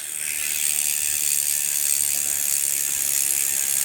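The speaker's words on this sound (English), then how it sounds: "Not a bad sounding hub out of the box" The rear freewheel hub of an Ozark Trail FS.2 Slalom bicycle ratchets as the wheel spins: a fast, even buzz of tiny clicks, loud and close, running unbroken throughout.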